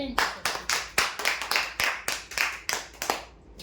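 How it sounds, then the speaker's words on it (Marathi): A small crowd claps loudly for a prize draw winner at a weekly lucky draw event, a steady burst of applause that fades out at the end. "जोरदार टाळ्या"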